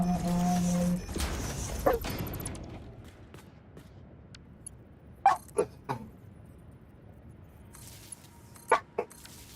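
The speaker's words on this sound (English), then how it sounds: "I don't know why he's barking." A dog barks several times in short separate bursts, with pauses between, over faint background noise and brief rustling.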